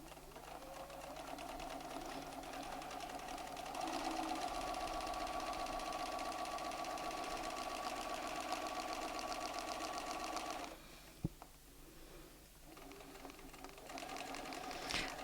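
A Bernina sewing machine stitches with a ruler foot guided along a template, giving a continuous fast mechanical whir. It runs steadily for about ten seconds, stops briefly with a click, then starts up again.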